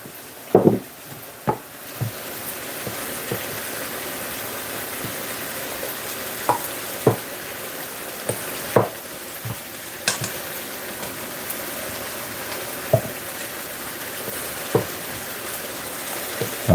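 Chicken liver frying in a pan and stirred with a spoon, a steady soft sizzle punctuated by irregular sharp clicks and scrapes of the spoon against the pan, close and alone.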